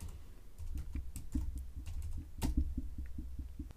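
Keystrokes on a computer keyboard while entering a Photoshop shortcut: a quiet, steady run of light clicks and taps at close range, with no speech.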